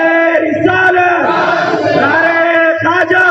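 A large gathering at a religious address shouts slogans back in unison, a loud, dense roar of many voices swelling and sustained for a few seconds, close and overwhelming.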